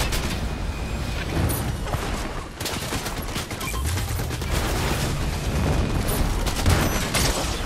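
Rapid bursts of gunfire crackle through a Fortnite Zero Build ranked solo match, loud and nearly continuous, with shots stacking over one another and no talk.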